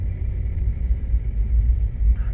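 A Kia Soul with a newly installed engine and transmission driving on the road, a low steady engine rumble and road drone heard from inside the car, loud and continuous.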